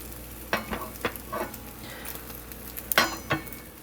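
A two-egg cheese omelette fries in a cast iron skillet, giving a soft steady sizzle broken by several short scraping and stirring strokes of a utensil against the pan, with no speech.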